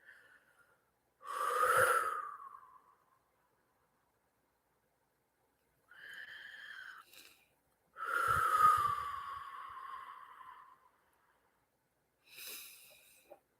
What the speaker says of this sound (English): just take a moment and just take a deep breath